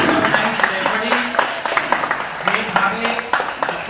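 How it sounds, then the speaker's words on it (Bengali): Audience applause for Nandan at a wrestling competition at Panchanan Byayam Samiti in Jorabagan, Kolkata: a crowd claps steadily and briskly with sharp individual claps throughout, while a voice talks over it. "নন্দনের জন্য একটা জোরে হাত তালি"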